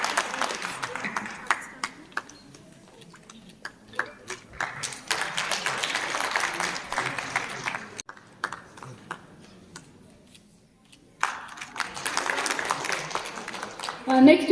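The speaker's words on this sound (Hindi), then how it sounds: "जोरदार तालियों से इनकी हौसला अफजाई करें." Audience clapping at an International Women's Day celebration and awards event, sparse hand claps rising and falling in bursts across the stretch, moderately loud with quieter gaps.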